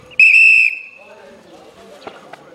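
A referee's whistle at football training gives one loud, sharp blast lasting about half a second, followed by faint field noise and distant voices.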